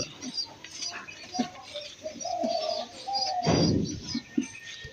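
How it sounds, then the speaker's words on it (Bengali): Two white pigeons cooing nearby, with soft repeated low coos and faint chirps over quiet background noise, then a short burst of rustling. "এই যে এদিকে দুইটা কবুতর রয়েছে।"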